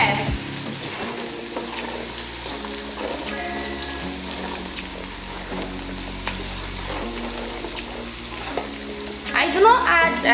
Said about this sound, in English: Then I'll stir.